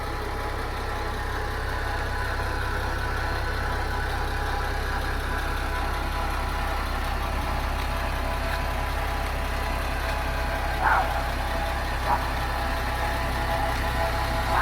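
A steady, low engine idles without pause, a constant even rumble with a couple of faint brief ticks and no talking.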